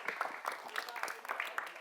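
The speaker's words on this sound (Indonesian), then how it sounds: "Tepuk tangan" Faint, uneven handclapping from a small audience at a comedic stage play, a quick patter of claps lasting under two seconds.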